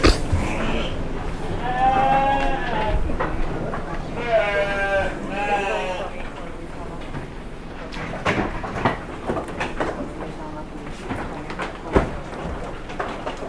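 Sheep bleat loudly and repeatedly inside a breeding barn housing colony pens, several drawn-out calls up close over barn clatter, with people talking nearby.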